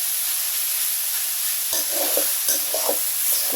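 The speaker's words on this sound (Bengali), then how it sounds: "অবশেষে কলি শাক ভাজিটা রেডি হয়ে গেছে।" Kalai greens stir-fry in a hot pan, a constant bright sizzle with spatula scrapes and stirring knocks joining partway through, close and clear with no talking.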